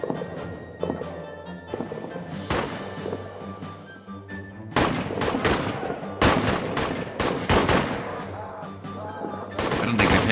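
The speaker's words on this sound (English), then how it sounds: "Shoots at enemy on every site. Consumes ammunition." Gunfire in the trench warfare video game All Quiet in the Trenches: loud bursts of rifle and machine-gun shots with thuds, coming in repeated volleys over a continuous battle din.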